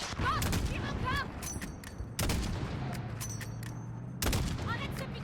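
Gunfire from the video game Call of Duty Modern Warfare sounds in rapid bursts of close automatic shots, with heavy booms at intervals under a continuous battle din.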